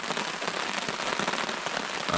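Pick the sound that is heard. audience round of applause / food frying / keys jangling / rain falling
rain falling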